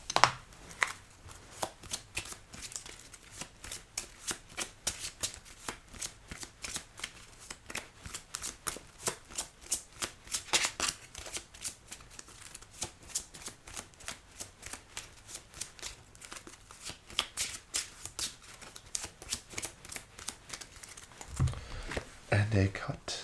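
Playing cards shuffled and cut in an ASMR-style Pokémon casino dealer roleplay, with crisp, rapid riffling and snapping close to the microphone, repeating in steady rhythmic bursts, while a soft voice talks over it.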